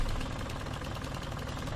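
Tractor engine in the video game Farming Simulator 19, a steady loud droning rumble with a knocking idle texture, running continuously and alone without talk.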